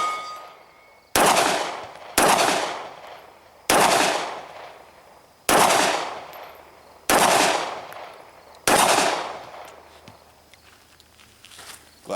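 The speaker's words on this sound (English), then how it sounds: "So let's go ahead and we'll take a few shots, see if I can hit any of my targets here" Six loud, sharp shots from a Glock 19 Gen 4 9mm pistol at an outdoor range, fired singly at irregular intervals of one to two seconds, each with a brief ringing decay.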